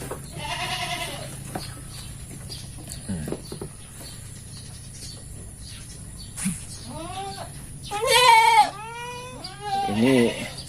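Kacang goats bleat in several separate calls, some faint and others loud and close, with quiet stretches of low background noise between them.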